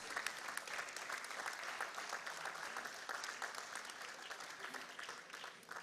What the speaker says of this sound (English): thank you for those spontaneous claps